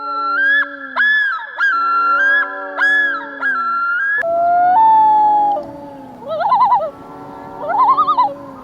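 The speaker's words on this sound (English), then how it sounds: "Loon bird." A loon calls with long, wavering wails that rise and fall, then breaks into rapid tremolo yodels, loud and close with brief pauses between phrases.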